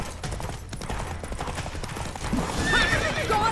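Geralt's horse Roach in the Witcher 3 video game, hooves clip-clopping at a gallop under busy background noise, then a loud, clear neigh rising out near the end.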